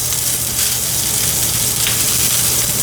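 Fish pan-seared for a crispy crust sizzles steadily and loudly in hot oil. The crackle is close and unbroken, with no talking over it.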